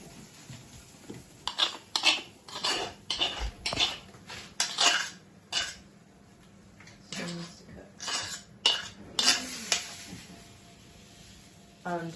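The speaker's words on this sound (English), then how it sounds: "scrape all of the starter into your bowl" Sourdough starter being scraped from a container into a bowl, heard as a series of short scraping and clinking utensil strokes against the dish, irregular and fairly close, with quiet talking in between.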